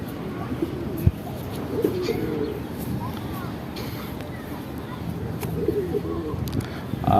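Pigeons coo softly and repeatedly in a loft, low murmuring calls running steadily under faint background noise with no speech.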